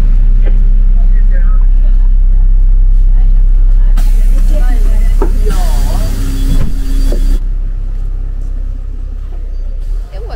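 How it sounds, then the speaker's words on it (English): A bus arrives in heavy rain at a stop in Tórshavn, Faroe Islands, its low engine rumble steady throughout, with a louder surge of engine and brake noise in the middle before settling into an idle. "Oh, the bus arrived earlier."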